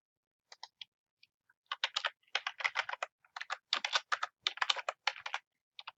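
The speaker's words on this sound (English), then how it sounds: "As I type in the article title" Computer keyboard keys tapped in quick, uneven bursts while an article title is entered into an online citation form; close, crisp clicks that build from scattered taps to steady runs, with no talking.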